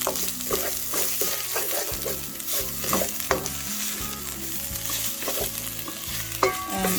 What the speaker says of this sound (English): at this point I'm going to add the garlic and ginger and